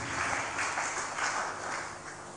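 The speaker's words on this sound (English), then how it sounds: "Clap for that one." Congregation clapping at a live-streamed church sermon, a steady broadband patter of many hands that swells and eases in waves, fairly far and moderately loud, with no voice over it.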